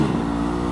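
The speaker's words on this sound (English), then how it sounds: "that was a big rev bomb" Car engine letting out a loud rev on a road, a close, sustained harmonic drone that fills the whole short moment without any talk over it.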